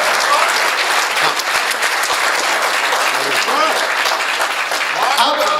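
Dense, sustained applause fills a Hindi comedy-poetry show as a large audience claps steadily throughout, loud and close, with no break.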